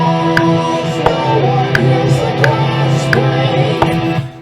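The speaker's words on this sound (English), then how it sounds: "So what you're hearing is rhythm guitar and a 2-part harmony." Backing track with rhythm guitar and two-part vocal harmony, loud and full, with sustained harmonized voices over steady strummed chords and regular percussive accents.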